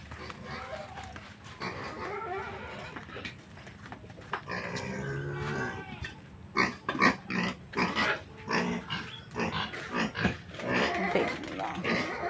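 Farm pigs eat a feed of cooked taro, giving loud wet chomping and slurping in rapid bursts mixed with grunting oinks, while a person talks nearby.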